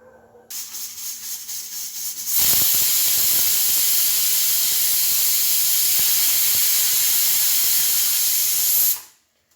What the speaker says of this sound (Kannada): ಈಗ ಫಸ್ಟ್ ವಿಷಿಲ್ ಆಯಿತು.